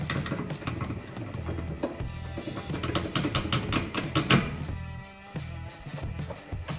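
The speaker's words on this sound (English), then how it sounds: "And I'm using a breaker bar to break this loose." A breaker bar with an 18mm socket works loose a rear lower control arm bolt on a 2012 Mustang GT, giving close, rhythmic ratcheting clicks and metallic creaks in quick repeated bursts, with no talking.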